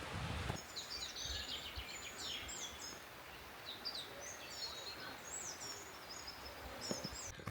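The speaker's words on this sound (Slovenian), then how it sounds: "Upam, da si slišal vse te ptičke." Many birds sing and chirp in a mountain forest on the volcanic ridge near Smrekovec, with repeated short calls from several directions over steady broadband background hiss.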